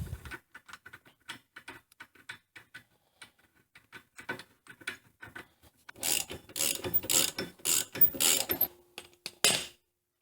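A nut is threaded by hand onto the splined rear differential hub of a Honda Recon ATV, giving sparse light metallic ticks followed by a denser burst of quick ratcheting clicks near the end.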